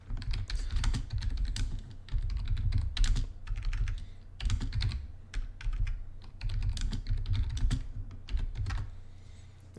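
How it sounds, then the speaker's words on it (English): Rapid typing on a computer keyboard, close and clear, with irregular bursts of key clacks and short pauses throughout. "I'll type it out just to make sure."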